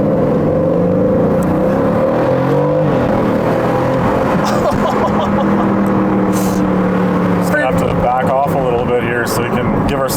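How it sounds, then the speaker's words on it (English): A 2023 Aston Martin Vantage F1 Edition exhaust accelerating, a loud, steady engine drone with rising harmonics that continues throughout, heard from inside the car with talk over it. "Oh, just hear that exhaust. Oh, that sounds so good."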